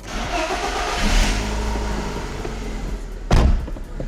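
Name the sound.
car engine revving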